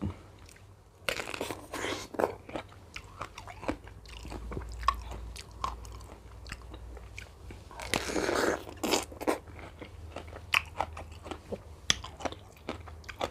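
Fresh, sweet, juicy peach bitten and chewed close up, giving repeated wet crunchy bites and soft mastication sounds over a quiet background, with two louder bite bursts.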